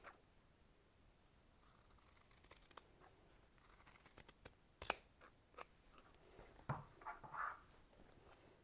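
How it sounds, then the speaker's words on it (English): Fabric scissors trim cloth near the stitching of a simple embroidered peg bag, giving quiet, close, scattered snips with a few crisper cuts and short pauses between them. "And trim all of this bit off, not too close to the stitching,"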